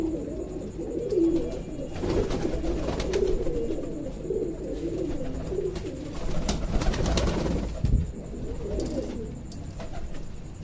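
Several pigeons coo repeatedly in soft, rolling phrases close by while drinking water, with light rustling and a faint background hum.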